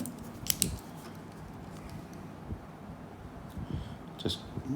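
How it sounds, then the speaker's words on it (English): Scissors cut through a 3mm Poron foam pad for a plantar metatarsal pad in an orthotic, giving a couple of sharp snips followed by quieter steady cutting and handling noise. No one speaks. "And we cut it out again, avoiding waste where we can."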